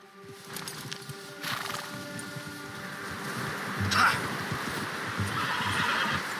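A horse whinnies in the video game Red Dead Redemption, over a low background hum and rustling, with faint hoof-like clatter around it.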